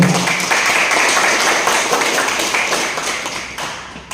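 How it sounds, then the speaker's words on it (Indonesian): An audience at an MOU signing ceremony with investors claps steadily, a dense patter of many hands close by that thins out near the end. "Tepuk tangan dulu."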